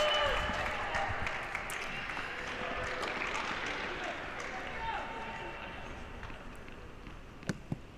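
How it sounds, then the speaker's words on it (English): Crowd applauding at a women's college indoor team tennis championship quarterfinal, a fading wash of clapping under steady commentary talk, with a couple of sharp isolated claps near the end. "Look at that crowd. They are here and they are with it."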